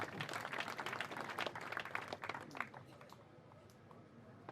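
Church audience applauding, a burst of clapping that rises at the start, holds for a couple of seconds, then thins out and fades to quiet.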